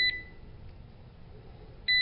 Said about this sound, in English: It'll give a few beeps.